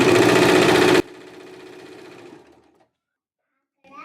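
A sewing machine stitching the double-folded sleeve hem of a kurti runs loud and steady for about a second, then stops, leaving a fading hum and brief quiet handling noise.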